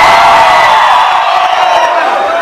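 A crowd at a sonidero dance in San Mateo Otzacatipan, Toluca, shouts and cheers loudly, a dense roar of whoops and yells sustained throughout, close and filling the space.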